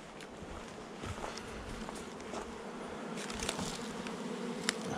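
Honeybees hum continuously in a dense, close swarm on the landing board of a hive entrance, with light pattering and buzzing passes.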